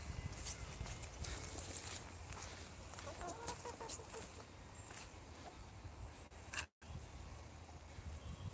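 Chickens cluck faintly outdoors at a garden plot, scattered soft calls over a quiet background with a few brief knocks and rustles.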